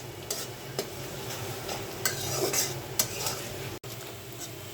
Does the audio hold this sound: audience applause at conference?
no